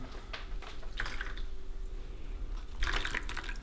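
Warm water sloshing and dripping in a bowl as baking soda is stirred in, with soft squishy splashes coming in small bursts, close up and without speech.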